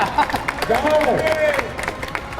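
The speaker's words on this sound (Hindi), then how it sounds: "सरताज जी और शैलेंद्र जी के जोरदार तालियां" An audience applauds as two guests are invited onto a village stage, steady clapping and crowd noise with a voice talking over it.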